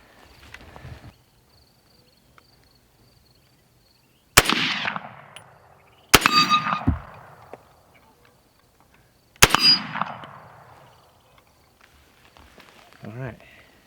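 An M1 Carbine rifle fired outdoors without lubrication gives three loud, sharp single shots spaced a few seconds apart, each with a ringing echo tail, separated by near silence.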